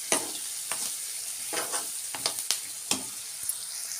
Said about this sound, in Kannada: ಈ ರೀತಿ ಗೋಲ್ಡನ್ ಕಲರ್ ಬರೋವರೆಗೂ ಫ್ರೈ ಆಗೈತೆ ರೀ ಫ್ರೆಂಡ್ಸ್ ಉಳ್ಳಾಗಡ್ಡಿ